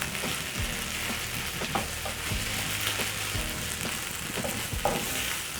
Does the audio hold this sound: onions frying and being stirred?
yes